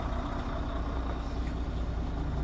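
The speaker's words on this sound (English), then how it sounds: "applying your air brake" A Freightliner Cascadia straight truck rumbles steadily as its air brake is applied, giving a dense, constant low-heavy noise for a couple of seconds with no voices.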